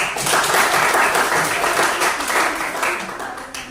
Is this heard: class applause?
yes